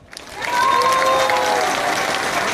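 A crowd at a Wolne Sądy court-protest rally in Gdańsk bursts into sustained, loud applause that swells within half a second, with a few whistles or cheers rising through the clapping.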